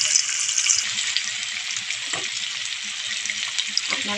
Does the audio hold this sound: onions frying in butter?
yes